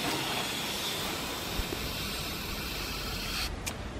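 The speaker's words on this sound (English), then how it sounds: "I just give them a gentle spray to cover the traps" A fine mist sprayer gives a gentle, steady hiss over sundew plants, drosera venusa and drosera cunifolia, in a space that is not quite a greenhouse. The spray runs continuously and close, with a couple of faint clicks near the end.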